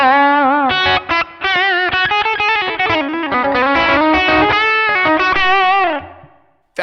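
Electric guitar run through a Pocket POD amp modeler with the distortion setting engaged, giving a crunchy, Fender-style tone; a dense, loud stretch of sustained chords and single notes plays alone, then rings out and fades.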